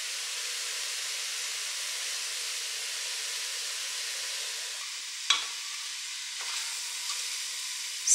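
Onions, garlic and three tablespoons of bobotie spice mix fry in a pan with a steady, even sizzle throughout, broken by a couple of brief utensil clinks near the end.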